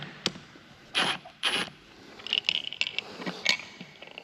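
A big spring on a dozer winch free-spool gear is cranked down with a tool, giving a few sharp ratcheting clicks and scrapes, two separate bursts followed by a faster cluster of metallic clicks, close and fairly quiet.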